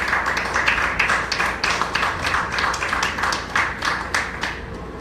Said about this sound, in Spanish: Eso se merece un aplauso del Señor.